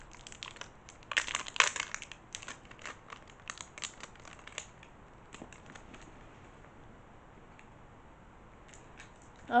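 Concealer packaging from a Christmas gift haul is unwrapped close up, with crisp crinkling and crunching plastic in irregular bursts, busiest early and thinning out toward quiet.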